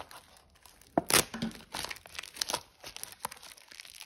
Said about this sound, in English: Daddy pulled the rest of that plastic off.